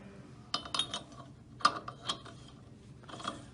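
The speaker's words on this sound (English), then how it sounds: "Install the locking washer so the internal tang will fit in the slot." A locking washer fitted onto an SKF bearing adapter nut, a few quiet metallic clicks and clinks spaced irregularly, close and faint.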